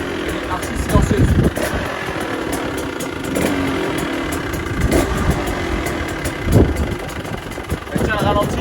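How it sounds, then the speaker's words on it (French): A new 2020 KTM 150 SX dirt bike idles close by with a steady, quiet rumble, while someone talks over it. "Elle tient le ralenti, pas de problème."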